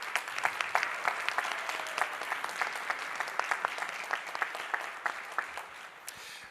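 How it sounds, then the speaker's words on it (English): Debate audience applauds steadily, a dense patter of claps that stays fairly even and then thins out toward the end, with no talk over it. "let's give another round of applause to everyone here"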